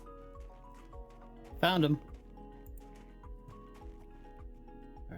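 Horse hooves clip-clopping at a steady walking rhythm in the Minecraft mod TerraFirmaCraft, soft and close, with a short neigh partway and someone speaking briefly.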